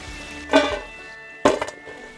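Walleye pieces frying crisp in a pan at a shore lunch camp, with two sharp clattering bursts of pan and utensil contact over a faint sizzle.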